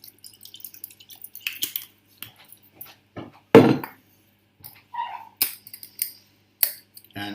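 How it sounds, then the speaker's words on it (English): Balsamic vinegar dribbling into a bowl of wet lasagne ingredients, heard as a sparse series of quiet drips, taps and small clinks spread across the moment, with short silences between them. "you now put some balsamic vinegar in it"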